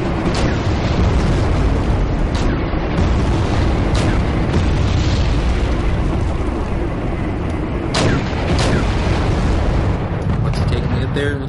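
Tank gunfire and booming shell explosions from a military strategy video game battle, with an AMX tank advancing and firing, loud and dense throughout, with a few sharper blasts standing out over continuous rumbling battle noise.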